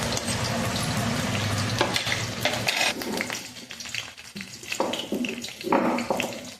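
Mustard seeds, cumin, onion and green chili frying in oil, a steady broadband sizzle with stirring and clinks, loud at first then thinning and turning patchier toward the end.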